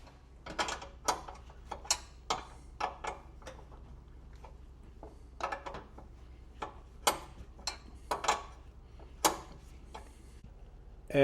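A ratchet tightens fender brace bolts on a Subaru WRX, giving bursts of sharp, close clicking with short pauses between runs.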